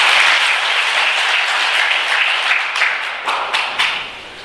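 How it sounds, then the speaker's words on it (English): A workshop audience at a Toastmasters event in Muscat, Oman claps loudly and densely throughout, with a few sharper individual claps standing out as the applause thins slightly near the end. "She is clapping."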